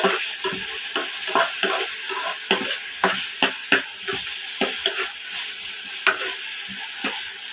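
Bottle gourd and sardines cooking in a home kitchen pan, with a steady sizzle under repeated stirring scrapes and knocks at an uneven rhythm, close and moderately loud, and no talking.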